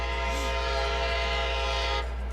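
A train passes at speed on a US rail line, a loud continuous rumble with horn-like tonal bands throughout, shifting and thinning near the end as it goes by.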